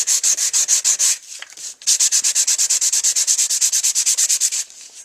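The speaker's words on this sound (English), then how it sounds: "I'm going to take my sandpaper. I'm just going to go over this to bring out that nice pattern." Sandpaper rubs briskly over a woodgrain-patterned paper birthday card in fast, even back-and-forth strokes, loud and close, with a brief pause before the rhythmic scratching resumes.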